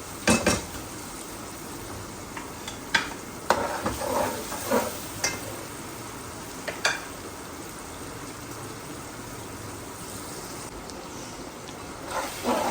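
Peas pulao masala with tomatoes and ground black pepper sautéed in a pan, a steady soft sizzle broken by irregular close scraping stirs and occasional utensil knocks, with no voices.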